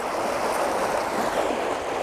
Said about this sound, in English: there's water dumping in here from a creek somewhere